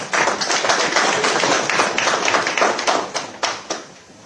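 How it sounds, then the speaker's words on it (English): An audience claps for a panel moderator at a business conference on tobacco held at a Harare hotel, giving steady, dense applause close by that tapers off near the end. "as we clap hands for him"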